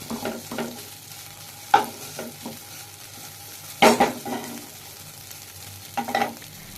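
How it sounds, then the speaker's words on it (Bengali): Mashed potato filling mixed with spices in a pan for Bengali fuluri, with intermittent scraping and clinking stirring strokes, a few sharper knocks of the utensil against the pan, over a quiet background and no talk. "আর সব কিছু একসঙ্গে নাড়াচাড়া করে নিচ্ছি খুব ভালো করে নাড়াচাড়া করে নিতে হবে"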